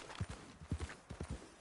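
Horse hooves pound at a gallop in Red Dead Redemption 2, a fast, steady clip-clop of repeated beats close by, with no talking over them.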